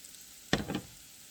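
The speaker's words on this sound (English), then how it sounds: "So I add the cream sherry next to deglaze the pan." Cream sherry hits a hot, sticky pan while making mushroom sauce, giving one sharp burst of sizzling that quickly fades into a softer crackle.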